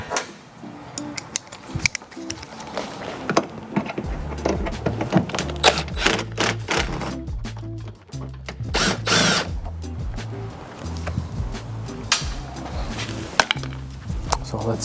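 A power driver works a Torx 30 screw out of an Audi A3/S3 8Y bumper, giving several short, uneven whirring and ratcheting bursts close up, over a steady musical background.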